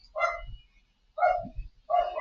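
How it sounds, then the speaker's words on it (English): A dog barks three times close by, in loud, evenly spaced woofs with quiet gaps between them. "my dog is barking"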